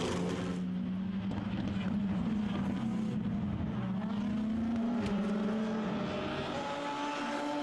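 Race cars at a European Le Mans Series round, including an Alpine Nissan and a Zytec Nissan, roar steadily with shifting engine pitch under a French commentator's voice.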